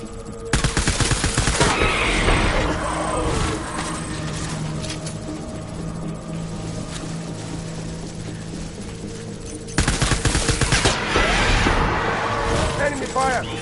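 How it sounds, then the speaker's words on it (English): Enemy gunfire in a combat video game: dense bursts of rapid shots near the start and again near the end, with a steady mechanical drone and a voice in between. "Enemy fire!"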